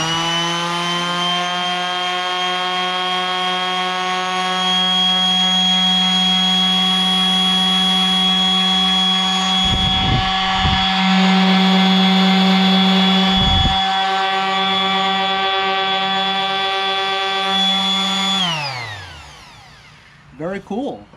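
A Jellas 3.8 amp 5-inch random orbital sander runs with a steady, high motor whine for about eighteen seconds, then winds down quickly, followed by a couple of brief knocks.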